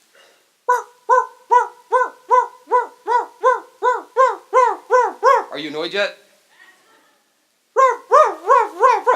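A voice mimics a dog's yelping bark in a fast, even run of about a dozen loud barks, pauses briefly, then barks again, and a short spoken line falls in the gap.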